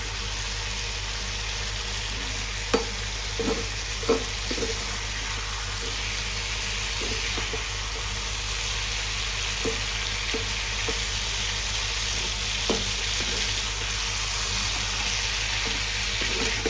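Pabda fish curry with cauliflower and potato sautéing in a pan, a steady loud sizzle with occasional clinks and scrapes of stirring throughout, no talking.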